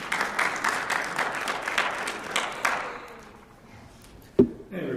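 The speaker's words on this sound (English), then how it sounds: "Please give a round of applause for Andrew Pierce." A conference audience claps for a presenter, a dense steady patter of many hands that thins out and fades over a few seconds, ending with a single sharp knock.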